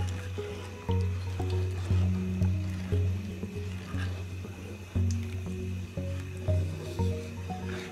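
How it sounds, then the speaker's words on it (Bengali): Spoon scraping and stirring milk with sugar in a pot as condensed milk cooks down, giving steady rhythmic scrapes and soft sloshing with a low hum underneath, close and continuous. "অনবরত কিন্তু নাড়তে হবে, নাড়া থামানো যায় না"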